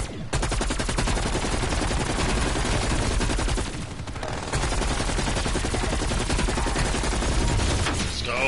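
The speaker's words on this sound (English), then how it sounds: "Sentry turret locked and loaded. Sentry gun." Automated sentry gun turret in a zombies-mode shooter game firing continuous rapid bursts, loud and dense for about eight seconds with a brief lull midway, no talk over it.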